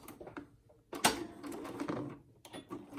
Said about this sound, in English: I'm just going to make a stitch all the way across one side.